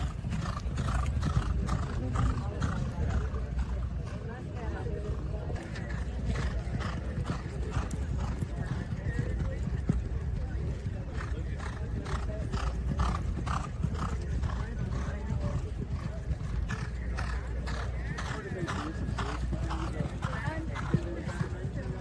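Kentucky Derby racehorses on morning workouts on the backside at Churchill Downs, with continuous rhythmic clip-clop of hooves nearby and voices talking over the steady hoofbeats.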